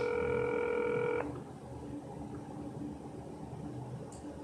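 Telephone keypad tones dial a number in a quick burst of steady beeps lasting about a second, then the line falls to a faint hiss with a brief soft tone near the end.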